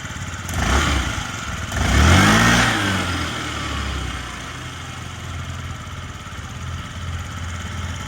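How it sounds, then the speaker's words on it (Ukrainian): A Yamaha Jog SA 55 fuel-injected scooter engine runs close by, revving briefly twice near the start before settling into a smooth, quiet, even idle that continues to the end. "Дуже тихенько, рівненько працює, взагалі без питань тут двигун."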